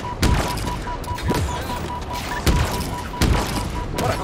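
Sharp gunshots crack out in a Halo Infinite multiplayer match, scattered every second or so over a steady layer of game noise and a low tone, with some talk mixed in.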